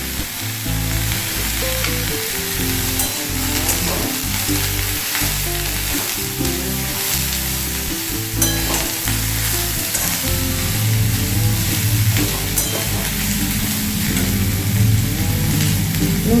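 Kochu loti, taro stems, frying in an oil-filled pan over raised heat, a loud continuous sizzle with occasional stirring clatter, with no voices.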